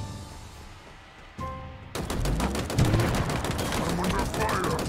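Rapid automatic gunfire in the Halo Infinite campaign breaks out abruptly after a quiet stretch, then keeps up as loud, dense bursts of shots with a few impacts mixed in.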